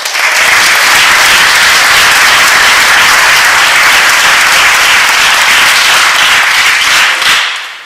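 A full room claps at a 2013 Catawba County Chamber of Commerce business event, producing a loud, unbroken wash of applause that fills nearly the whole stretch and stops abruptly at the end.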